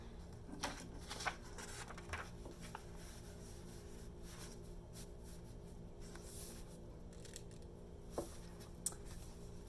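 Fabric being cut out for cloth face masks, quiet scissor snips and rustling scattered through a low steady room hum, with a few sharper clicks near the start and end.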